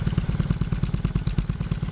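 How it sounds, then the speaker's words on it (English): A motorcycle electronic exhaust, switched to its louder setting, idles close up with a loud, deep, rapid pulsing beat, choppy and throaty, continuing steadily throughout. "And now listen to this exhaust."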